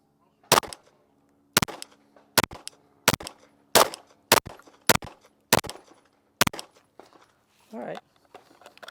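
Nine sharp pistol shots crack out at a shooting range, evenly paced at slow-fire intervals with silence between, close and loud, followed by a brief voice-like sound at the end.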